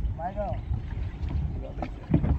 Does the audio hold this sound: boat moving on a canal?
yes